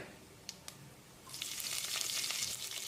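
Cumin seeds, cashews and green chillies hit hot oil in a pan and burst into a loud, steady sizzle after a couple of faint clicks, close up and alone.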